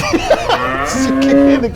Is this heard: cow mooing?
yes